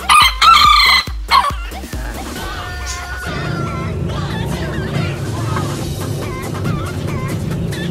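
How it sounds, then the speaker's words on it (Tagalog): A rooster at a chick-raising yard gives a loud crowing call up close, followed by softer clucking and background chatter of people talking. "Ito yung kanyang rooster."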